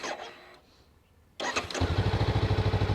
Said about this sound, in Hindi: यहाँ पे गाड़ी स्टार्ट करनी हो तो